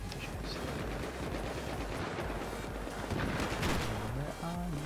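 Gunfire in the Battlefield video game on the Dragon Valley map, with rapid automatic bursts and scattered shots crackling densely and fairly faint throughout, overlaid with dense game noise.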